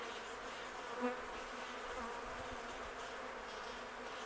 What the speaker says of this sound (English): There's some bees in here that are just kind of hanging out